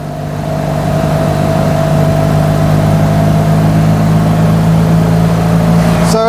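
A Fiat 500-based Foulkes Developments Impala Moke-type car's small engine revs loudly and steadily, a droning mechanical roar that holds throughout at close range.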